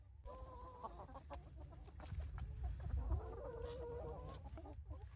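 Free-range chickens cluck and murmur inside a mobile chicken tractor on a homestead, a few hens close by with short repeated calls over a low rumbling background.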